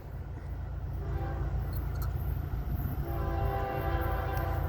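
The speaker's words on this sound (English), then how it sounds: "it's blowing the horn at Big Oak Road" A distant Florida East Coast Railway train horn sounds in sustained blasts at the Big Oak Road crossing over a low rumble of rolling rail cars, faint and far off, with no voices.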